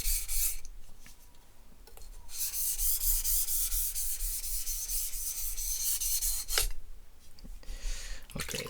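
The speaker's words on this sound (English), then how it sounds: "we are making sure that the burr is completely removed on both sides" A cheap sushi knife rubbed across a sharpening stone to remove the burr, heard as close, quiet, gritty scraping strokes in a back-and-forth rhythm with brief pauses between passes.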